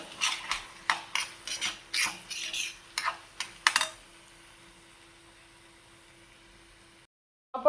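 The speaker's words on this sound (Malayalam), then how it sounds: "ഇതാ നമുക്ക് ഇതെല്ലാം ഒന്ന് മിക്സ് ചെയ്തെടുക്കാം" A spoon scrapes and clicks in a pan as tomato filling for a wheat-flour and egg evening snack is stirred, about a dozen rhythmic close strokes for several seconds, then near silence.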